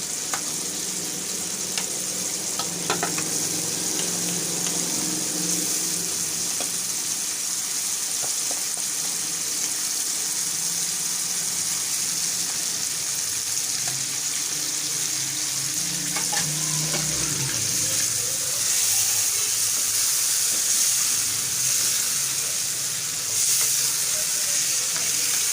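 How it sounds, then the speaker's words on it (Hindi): Masala frying in a pot while biryani is made, a steady loud sizzle with occasional stirring scrapes, continuing without pause and with no talk over it. "अब मसाला भून रहा है"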